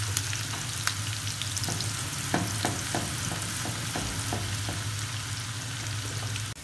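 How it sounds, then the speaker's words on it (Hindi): Finely chopped onion fries in oil until golden brown, giving a dense continuous sizzle with a low hum beneath and a run of light, regular utensil taps in the middle, close and steady, no speech. "और अब इसको करते हैं हम फ्राई"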